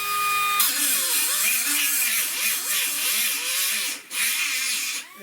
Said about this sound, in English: So I'm just coming in with my die grinder.